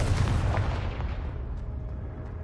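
Confringo blasting spell cast in a Harry Potter video game, a deep booming explosion that hits hard at the start and then rumbles and fades over a couple of seconds, with no voices over it.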